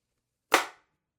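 X-68 Punisher air gun fired once at 1,000 psi through a new 6-inch Reaper barrel, giving a single sharp, crisp crack that decays quickly into silence.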